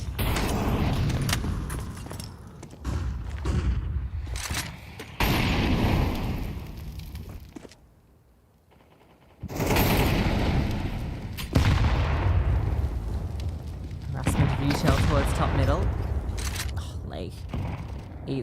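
HE grenade explosions and gunfire in a Counter-Strike match at the CS Asia Championships, booming blasts and shots scattered across the round under steady caster commentary, with a brief quiet lull midway.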